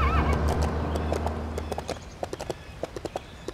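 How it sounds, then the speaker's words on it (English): A horse in the LEGO City Undercover video game neighs loudly, then trots with quick, regular clip-clop hoofbeats close by. "look! Horses! Do we get to use them?"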